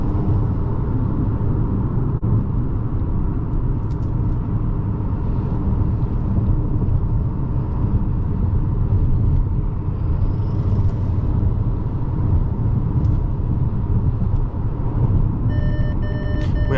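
A 2022 Ford Escape S accelerates hard to overtake traffic, its cabin filled with a constant loud engine and road rumble that holds steady throughout.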